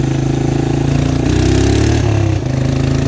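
A small 300 four-wheeler engine runs steadily close by, a loud continuous mid-pitched drone whose note shifts slightly as it revs.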